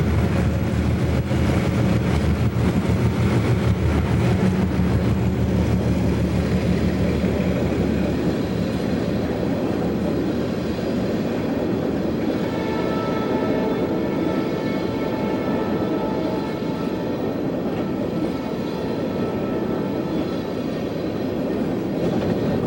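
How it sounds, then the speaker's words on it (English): Monongahela Railway locomotive 2302 hauls a southbound empty coal train past at close range, a loud steady rumble with rolling wheel and car noise holding for over twenty seconds, easing slightly toward the end. "southbound MGA 2302 soon makes an appearance with an empty coal train from New Hampshire Public Service"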